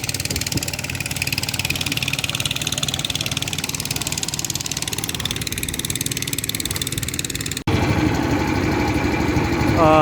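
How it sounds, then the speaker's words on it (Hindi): Boat engines on the Indus River chug steadily up close, a continuous loud motor drone that shifts abruptly to a different engine tone near the end. "ये देखें जी बोट्स आ रही हैं, लोग सफ़र कर रहे हैं।"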